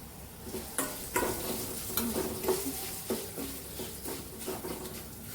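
Ground turmeric, coriander, cumin and fenugreek powders fry in hot oil in a pan, a steady close sizzle broken by repeated scraping stirs, with no voices.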